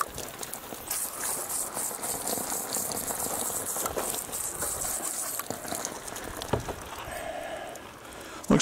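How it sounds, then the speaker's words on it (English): Water splashes and rinses steadily over a freshly processed rabbit carcass outdoors, a continuous hissing wash with soft pattering, close by and fairly even throughout, easing off near the end. "Let me wash this rabbit off a little bit."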